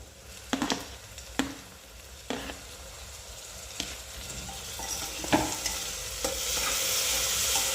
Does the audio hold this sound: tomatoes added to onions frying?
yes